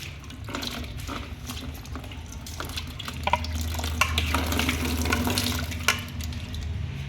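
Tap water runs steadily into a sink while fish are washed clean for a Sunday fish curry, a continuous close wash with faint clinks of handling and a fuller, heavier stream in the second half.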